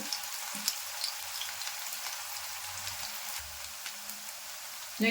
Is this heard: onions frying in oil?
yes